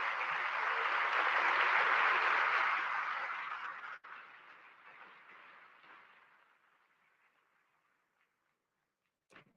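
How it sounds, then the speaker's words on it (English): A large audience claps in sustained applause at an International Olympic Committee session in India, loud and dense at first, then thinning and fading to near silence, with a brief final burst. "Let's give them a round of applause."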